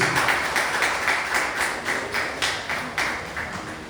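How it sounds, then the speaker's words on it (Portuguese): An applause welcoming a pastor in a church service, a moderate group clapping in a loose rhythmic patter of repeated bursts, steady and mid-distance, with no talking over it. "Receba o nosso pastor com uma salva de palmas em nome de Jesus"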